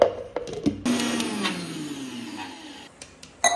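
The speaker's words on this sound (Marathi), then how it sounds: "आता हे सगळं आपल्याला मिक्सरमध्ये बारीक करून घ्यायचंय." A kitchen mixer grinder whirs through a batch of spice masala for a black masala drumstick curry, a steady loud motor roar running about three seconds with brief clicks before and after.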